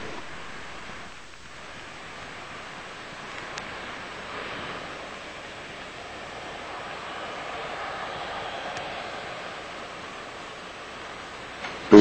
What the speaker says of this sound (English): Discovery's 3 engines now powering the second stage